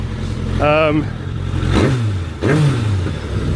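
A Suzuki Bandit GSF1200 Mk1 motorcycle with freshly synchronized carburetors idles nearby, a steady low engine hum running beneath a voice.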